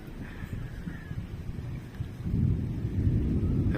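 Thunder from a night storm rumbles low and distant, growing heavier partway through into a deeper, fuller roll, with faint wind-like noise behind it.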